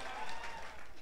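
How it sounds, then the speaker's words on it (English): Audience applause for CID dancers at a talent show finals, a brief burst of dense clapping and crowd noise filling the space at steady loudness. "Give another round of applause to CID dancers."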